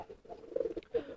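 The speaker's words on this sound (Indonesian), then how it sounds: "Nah, ini giringnya lumayan keras." Male high-flying pigeon cooing in courtship: a few soft, throaty coo phrases at close range over a quiet background.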